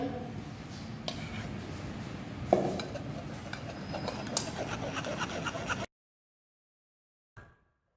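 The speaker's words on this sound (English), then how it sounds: "Strain the mixture with fine strainer" Vanilla ice cream custard mixture poured through a fine strainer into a bowl, a steady close liquid rush with light metal clinks for about six seconds, then silence and one brief faint knock.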